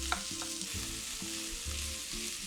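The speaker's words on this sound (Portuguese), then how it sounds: "vou colocar na frigideira junto com a cebola e deixar dourar um pouquinho" Calabresa sausage fries with onion in a frying pan, a soft close sizzle broken by repeated scraping and stirring strokes in an uneven rhythm. The sound is quiet and has no talk.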